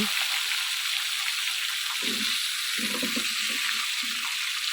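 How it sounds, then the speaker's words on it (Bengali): Fish pieces and a fish head frying in a pan, a steady close hiss of hot oil that continues evenly throughout, with some low scraping or bubbling noises mixed in and no speech. "আরও কয়েক পিস মাছ আছে সেটা ভেজে নিব"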